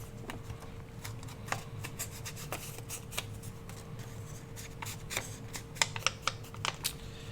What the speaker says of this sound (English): I'm going to tear right there and tear down here